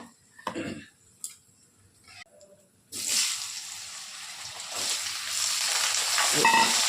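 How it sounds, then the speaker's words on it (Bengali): Pumpkin pieces drop into hot oil tempered with black cumin and dried chillies, and after a few quiet clicks a loud, steady sizzle starts and continues, growing slightly fuller toward the end. "এইবার এই কুমড়োটাকে ভালো করে ভাজবো।"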